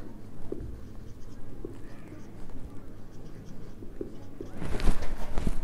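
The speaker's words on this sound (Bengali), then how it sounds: "আগের লাইনটা আমি লিখে নিই" Pen writing an accounting entry on paper, soft continuous scratching close by with a few taps, growing denser toward the end.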